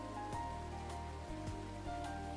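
Steady rainfall in the video game Ame no Marginal, a soft continuous patter over a low ambient drone with faint periodic drips, no voices.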